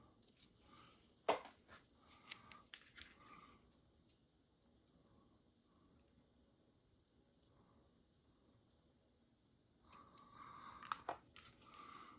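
A small blade snips across the top of a part on a Moebius 1965 Plymouth Satellite model car interior, heard as a few faint, close cutting crunches with a long quiet stretch between and no talking.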